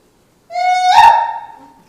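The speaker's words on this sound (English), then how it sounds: "It's called a buffalo yell." A single loud vocal yell rises from a steady high tone into a rough, breaking cry, then fades out within about a second and a half.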